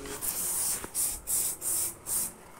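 Hairspray hisses from a can during a makeup session, four or five short steady bursts with brief pauses between them, close and fairly loud over a quiet room.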